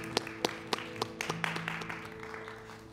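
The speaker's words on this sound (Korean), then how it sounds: "우리의 소망 대신 그 예수님께만 감사와 찬양의 박수를 드리겠습니다" A church congregation gives a round of applause in praise during a Sunday worship service, with scattered claps and taps at moderate volume over a steady sustained organ or keyboard tone.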